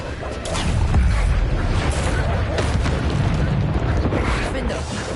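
A Bombarda spell explosion in Hogwarts Legacy combat, a steady loud rumbling boom that fills the whole moment with dense low-end roar.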